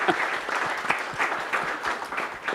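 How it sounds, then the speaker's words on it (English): Audience clapping frantically at a music panel discussion, a dense, steady wash of many hands close and loud throughout, with no talking over it. "And y'all started clapping frantically."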